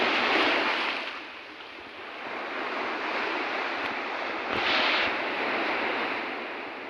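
Ocean waves surging at high tide on a shore, a steady broad wash of surf with swells rising around the start and again near the fifth second, with wind noise on the microphone and no talk.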